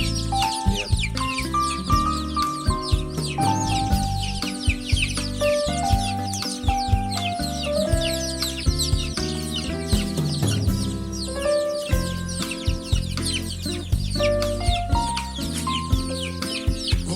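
A crowd of young nursery chicks being fed new feed clucks and peeps busily, scrambling for scraps, overlapping chirps and clucks close by, with scuffling and shuffling underneath.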